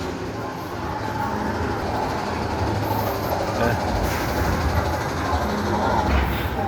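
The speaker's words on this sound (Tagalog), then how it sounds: "pipila tayo para sumakay sa train" An amusement park train at Gardaland gives a steady, loud rumble of wheels and rolling cars with broad wash, continuous through the whole stretch, with a few brief higher squeals and faint crowd background.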